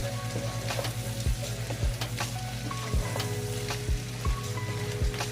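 Shrimp sizzle and fry in butter in a pan, a steady close hiss broken by repeated knocks of a utensil stirring them, with no voices.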